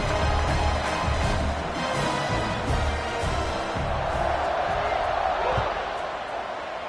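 Crowd at a football game, as the kickoff follows a 69-yard touchdown run: a dense, continuous roar of cheering spectrators fills the stadium, with a few thumps and a commentator talking over it.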